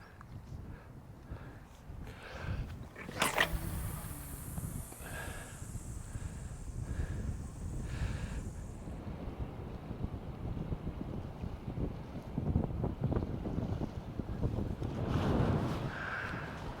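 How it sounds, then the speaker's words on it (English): Gusting wind buffets the microphone on a seashore during a fishing session, a steady rumbling roar that swells and fades over lapping surf, with a brief sharp clatter near the start. "Well, out of absolutely nowhere, wind's picked up."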